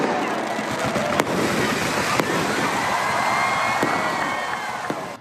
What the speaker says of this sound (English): epic fireworks show. Check it out.